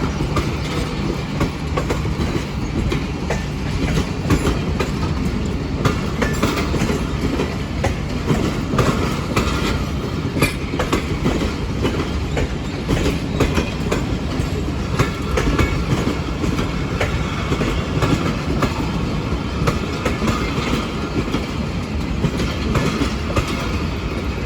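The 2 Down Khyber Mail passenger train rolls through Drigh Road railway station, a loud, continuous rumble of wheels and carriages with rhythmic clickety-clack running throughout, close by and unbroken.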